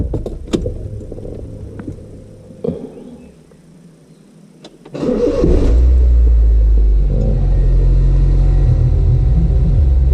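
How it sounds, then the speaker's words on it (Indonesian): A Honda Jazz GD3 engine cranks and catches, then settles into a loud, steady low idle rumble that continues to the end, heard up close after a few faint handling clicks. "Kita nyalakan dulu mesinnya."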